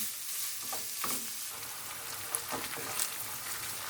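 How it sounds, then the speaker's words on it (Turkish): Ground beef, 250 g of medium-fat mince, frying in a heated pan, giving a steady, close, continuous sizzle with occasional small pops and stirring scrapes, no voices. "İçerisine 250 gram orta yağlı kıymamı ilave ediyorum. Kavuralım."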